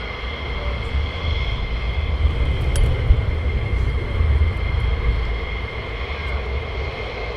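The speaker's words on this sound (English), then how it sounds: "So you got more taxiing out." Fighter jets taxiing at RAF Lakenheath airbase, a steady distant engine roar with a low rumble and faint high whine, continuous and moderately loud throughout.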